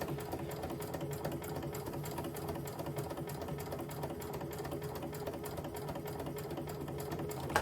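A sewing machine whirs steadily as it winds a bobbin, a fast, even mechanical buzz at moderate volume with no talking.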